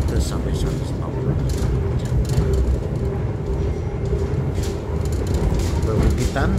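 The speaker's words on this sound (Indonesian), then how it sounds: "Cepatan kereta api ini sekitar" KA Sembrani, a passenger train running from Jakarta to Surabaya at around 100 to 150 km/h, fills the carriage with a continuous rumbling rail roar and clatter.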